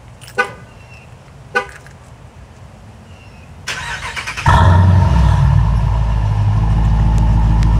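Dodge Durango R/T V8 with an X-pipe and Flowmaster Outlaw mufflers, a couple of sharp blips up front, then the engine catches and settles into a loud, deep, steady rumble close by.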